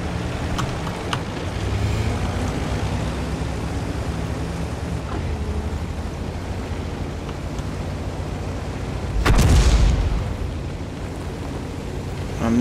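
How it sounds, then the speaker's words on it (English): Tank gun shots in World of Tanks Blitz: one heavy cannon boom lands around the middle of the stretch, rising from a steady rumble of engine and ambient battle noise, with a fainter thud near the start. "there's the first shots that have been fired"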